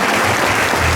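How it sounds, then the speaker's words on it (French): A congregation at a Holy Spirit church conference claps loudly and densely, a steady close wash of applause with no gaps. "on peut applaudir le Seigneur pour elle-même"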